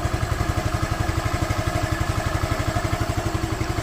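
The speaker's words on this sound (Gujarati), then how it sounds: "આનો વોઇસ પણ સાંભળી શકો છો એન્જિનનો" A Suzuki Access 125 scooter engine idles after being opened up and refitted, firing in an even, rapid, steady chug, close and continuous with no talk over it.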